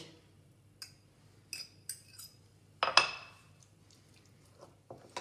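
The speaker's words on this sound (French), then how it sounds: "Je vais mettre les filets d'anchois et je vais mélanger" Sardines and anchovy fillets being stirred together in a container: scattered clinks and scrapes of a utensil against the dish, a sharper cluster of knocks midway, quiet and close with no talking.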